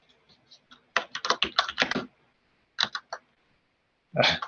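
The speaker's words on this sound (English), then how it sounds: "I started typing at the same time." Rapid clicking keystrokes on a computer keyboard come in quick bursts, pausing briefly before a few more taps and a final cluster.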